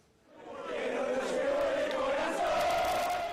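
A large crowd of fans outside a private clinic in Buenos Aires swells into sustained cheering and chanting for Diego Maradona, rising quickly from quiet to a loud, continuous roar.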